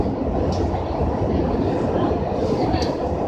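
Subway cars on the A train rumble steadily from inside the carriage, a dense continuous roar with faint squeals and a voice in the background.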